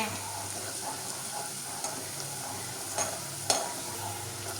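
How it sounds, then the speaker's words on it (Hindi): Food fries in oil in a pan with a continuous soft sizzle, stirred now and then with a few clinks and scrapes, heard close up. "ऑयल डाला है और हम इसे फ्राई करेंगे"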